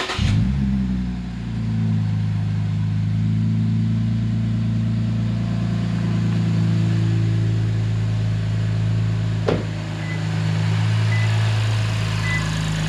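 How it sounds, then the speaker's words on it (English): A Lexus IS250 fires up after an oil change with a sharp crank and catch. Its engine then settles into a steady, fairly loud idle rumble, and one small click comes partway through. "you just start the car and check the oil level"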